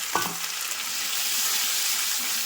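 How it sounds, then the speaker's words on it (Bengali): Tomatoes hit hot oil with fried ginger for a vegetable dal, giving an abrupt splash then a steady, loud, continuous sizzle throughout, with a brief stir near the start. "এবার ভাজা আদাকে টমেটো দিয়ে দেবো"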